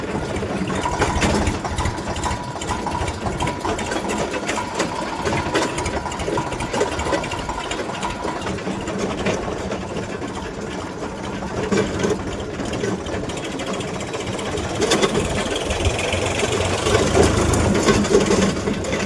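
A tractor's diesel engine idles with a steady mechanical rattle that stays even and loud from start to finish, close by, with no voices.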